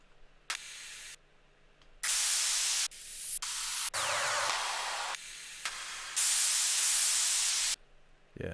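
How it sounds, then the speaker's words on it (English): Bursts of white noise exhaust sound effect in FL Studio, loud broadband hissing sweeps that switch on and off in blocks, some with rising or falling filtered tones, with gaps of near silence between. "Exhaust and white noise."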